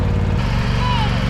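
A John Deere x570 lawn tractor runs steadily while plowing snow during a blizzard, its low, continuous engine drone loud and close throughout, with a faint scraping whine partway through.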